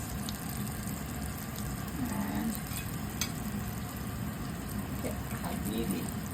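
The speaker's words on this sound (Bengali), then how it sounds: "কারণ মাছের কড়া ভাজি করছি" Fish frying hard in a pan alongside cauliflower, a steady dense sizzle with light stirring and bubbling throughout, close and fairly quiet.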